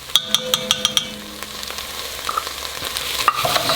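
Canned chilies being stirred into a pot of chicken white chili with a spoon, a run of quick clinks at first, then a soft steady scraping and sizzle, close and moderately loud.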